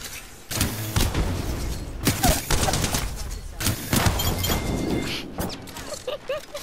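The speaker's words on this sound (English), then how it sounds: "I have a fucking charge rifle." Charge rifle gunfire in a video game, with sharp blasts and crackling impacts among busy battle noise, while players talk over the action.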